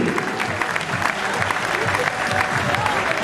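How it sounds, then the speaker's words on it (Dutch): Steady, dense applause from a crowd at a men's volleyball match, continuous clapping throughout with no breaks. "Applaus."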